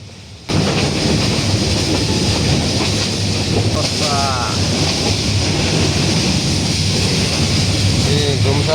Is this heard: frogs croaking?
no